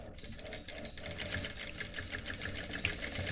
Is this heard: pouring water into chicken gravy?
no